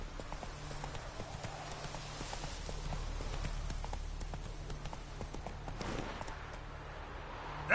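Roach the horse trotting in The Witcher 3, hooves clip-clopping in a steady, close rhythm over a low ambient rumble, with a brief swell of wind or movement near the end.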